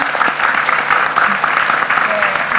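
Sustained applause from a TV talk show studio audience, steady clapping filling the whole stretch at a fairly loud level.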